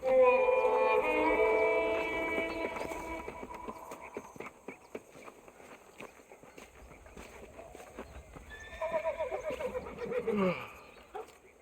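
A horse whinnies loudly in Red Dead Redemption, then hooves clip-clop steadily beneath, and a second whinny rises near the end; no one speaks.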